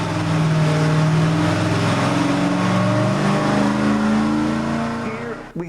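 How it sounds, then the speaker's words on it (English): A Ford 302 small-block V8 with reconditioned stock iron heads runs on an engine dyno at a shop in Roanoke, Virginia, a loud steady drone holding for about five seconds before cutting off abruptly at the end. "Here we have the test results of our 302 on Terry Walters dyno at Walters Engines in Roanoke, Virginia."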